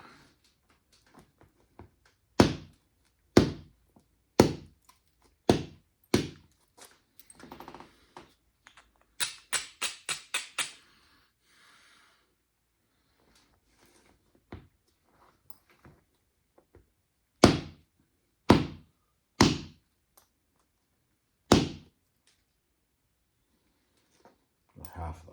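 A hammerstone strikes a blocky creek cobble during flintknapping, producing sharp, close clacks one at a time with pauses between them and a brief flurry of quick taps in the middle.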